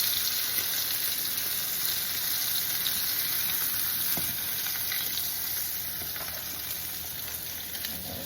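Food sizzles and fries steadily in a hot pan, a continuous loud crackling hiss that holds even for the whole stretch with no voices.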